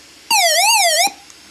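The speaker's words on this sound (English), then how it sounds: "Okay, that's a siren," A crank-powered solar NOAA emergency weather radio sounds its built-in siren: one loud, close electronic wail rising and falling in a smooth sweep for under a second, then cutting off abruptly into quiet.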